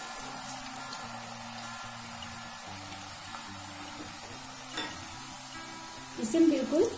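Peanut cracker dough, dusted of dry flour, frying in oil over very low heat gives a soft, steady sizzle, with a faint clink of utensils near the end.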